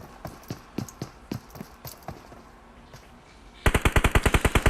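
Gunfire in a battle royale video game: scattered single shots and short bursts, then a loud, fast rhythmic automatic burst near the end.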